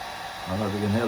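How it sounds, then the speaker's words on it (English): Steady outdoor wind on a blustery January day in New England makes a broad, airy rush throughout, with a voice joining halfway through and talking over it. "I don't know if you can hear the wind behind me"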